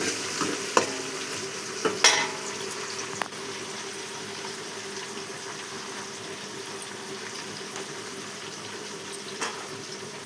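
A spoonful of mustard seeds and a bay leaf frying in oil, a soft steady sizzle at moderate distance with a few sharp clinks and scrapes of a stirring spoon on the pan, with no voices.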